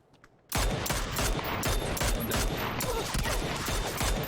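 Rapid, continuous automatic gunfire in the video game PUBG: Battlegrounds bursts in suddenly after a brief quiet moment, loud and sustained with sharp repeated cracks.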